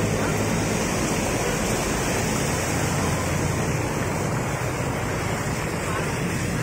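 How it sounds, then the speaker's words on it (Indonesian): Rushing floodwater waves surge through a flooded street in Binjai, a steady loud wash of churning water with gusting wind noise across the whole stretch. "Ombak"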